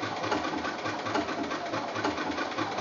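A sewing machine stitching a quilt block runs continuously with a close, even, rapid whirring and mechanical hum throughout, with no pauses.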